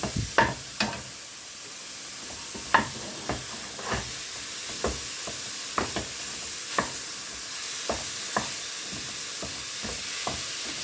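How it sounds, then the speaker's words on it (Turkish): Ground meat frying in a pan over high heat, a steady sizzle and hiss broken by sharp, irregular clicks and scrapes as it is stirred, close and moderately loud with no talking. "Kıymamı yüksek ateşte basra basra"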